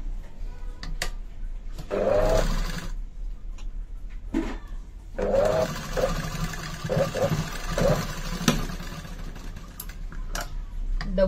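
A sewing machine stitches a two-piece Katori blouse, with whirring runs of stitching broken by short pauses and handling clicks, heard close against a steady background hum.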